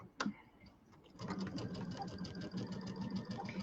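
A sewing machine stitches a quarter-inch quilt seam while piecing a table topper, its quiet, even mechanical chatter starting after a sharp click and running steadily to the end.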